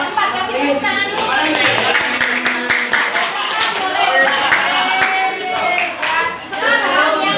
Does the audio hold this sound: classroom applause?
yes